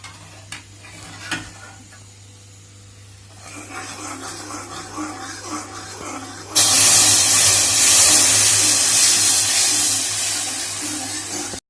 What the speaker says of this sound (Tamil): வெந்நீரை வந்து மேலே படாமல் கொஞ்சம் கொஞ்சமாக இதில் சேர்க்கணும்